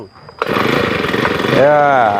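A loud engine-driven grass trimmer revs steadily, its motor rising in pitch near the end, with a brief quiet stretch before it starts.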